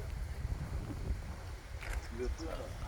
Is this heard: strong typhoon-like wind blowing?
yes